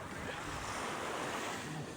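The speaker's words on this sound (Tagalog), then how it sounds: "Dito tayo guys sa tabing dagat." Ocean waves wash steadily onto a seashore, a continuous broadband roar of surf with wind buffeting the microphone throughout, no voices present.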